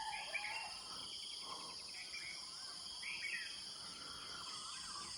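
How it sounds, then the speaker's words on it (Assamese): Birds call at dawn near a tree house, with repeated short chirps and trills at moderate distance over a constant high insect drone. "এতিয়া পূৰা চৰাই চিৰিকটিবোৰ মাতি আছে সেইটো চাইডৰ পৰা।"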